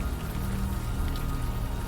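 Steady rain falls in a city street scene from the video game Unavowed, a dense, even patter of drops on surfaces, continuous and close with no talk over it.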